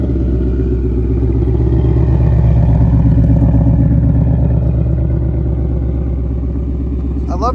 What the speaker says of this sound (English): I love the tone of the exhaust after that X-Pipe